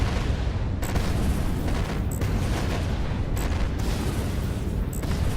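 Missile explosions in the space combat game Fractured Space make a dense, continuous roar of booms and blasts, with several sharper bursts punching through at regular intervals.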